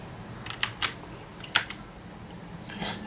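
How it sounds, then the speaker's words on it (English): Several sharp, sparse key clicks from a computer keyboard as a command is typed for configuring an HC-05 Bluetooth module, close and quiet over a faint background hum. "I'll check the speed settings for communication by typing this command here"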